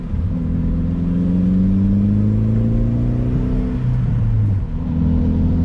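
A 2001 Saab 9-3 Viggen's 2.3-litre turbocharged engine drones loudly as it accelerates, its deep throaty tone rising and shifting through gears from inside the cabin.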